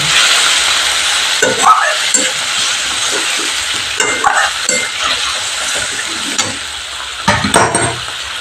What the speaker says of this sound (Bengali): এবার আমি গ্যাসটা একটু কমিয়ে নিয়ে মশলাটাকে কষিয়ে নেব